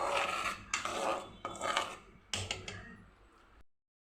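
Spoon scraping and stirring jaggery as it boils in a pan for sesame laddu, a few separate scraping strokes with bubbling between them, close and fairly quiet, then silence.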